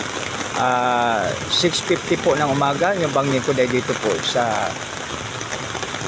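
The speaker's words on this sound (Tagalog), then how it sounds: "6:50 po na umaga, napakalakas po ng ulan." Heavy morning rain falls steadily as a broad continuous hiss beneath someone talking close by.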